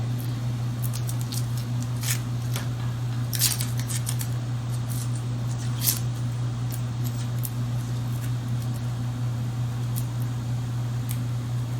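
Onion skin is peeled off by hand in a kitchen, giving a series of short, crisp crackling snaps scattered over a steady low hum, with no talk.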